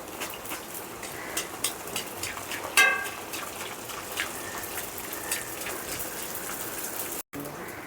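Bhatura deep-frying in hot oil gives a steady, dense sizzle and crackle throughout, with one brief sharper spatter near the middle and no talking.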